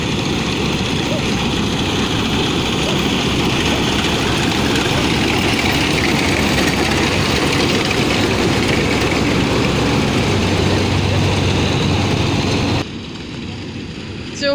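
A combine harvester for sale runs its engine, heard from the front; a loud, steady, rumbling drone with broad mechanical roar throughout, dropping to a quieter hum near the end.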